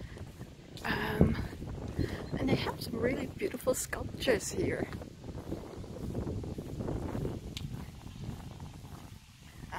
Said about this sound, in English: I'm sorry about the wind, it's an extremely windy day